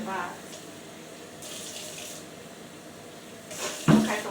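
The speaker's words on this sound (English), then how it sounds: "we've added some water" Tap water runs into a cooking pot in a home kitchen, a steady hiss that swells and falls before a brief clatter near the end.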